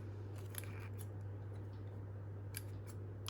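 Scissors snip through receipt paper in a series of quick, crisp cuts, some grouped in pairs, over a steady low electrical hum, with no talking.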